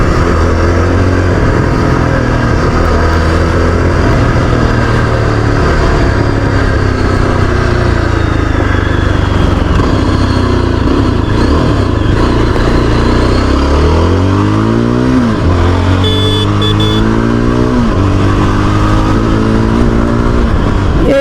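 A Yezdi Adventure motorcycle rides through an off-road patch, its engine droning loud and close throughout, with rising and falling revs toward the end and heavy wind rumble.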